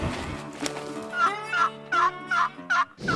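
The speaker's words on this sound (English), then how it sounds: "almost right away, we hear a gobbler" A wild turkey gobbler calls in a series of about five quick, rattling gobbles from a short distance outdoors, after an early sharp snap.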